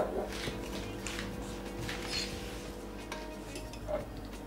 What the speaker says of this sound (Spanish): Y ahora lo vamos a batir todo